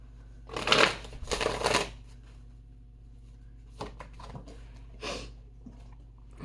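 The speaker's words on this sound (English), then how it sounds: "Let's give this another shuffle." Tarot cards being shuffled in two quick riffling bursts, then a few softer taps and slides of the deck, close and quiet.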